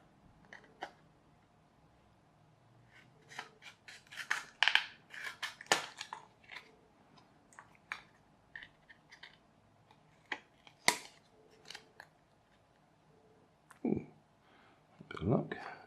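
Scissors snip pieces for a rubber-band powered model, giving scattered sharp clicks and crunchy cuts in short bursts, close and moderately loud, with quieter handling noise between.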